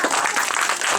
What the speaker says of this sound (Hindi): बजाइए तालियां